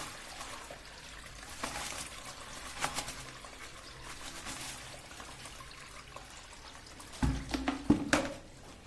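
Water trickles and splashes faintly in the background, then a louder burst of plain water pouring and sloshing into a bucket near the end.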